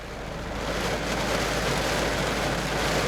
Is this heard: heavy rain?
yes